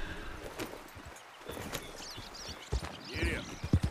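Horse hooves clip-clopping at a gallop in a video game, a quick rhythmic patter of moderate loudness that grows heavier near the end, with a voice urging the horse on over it.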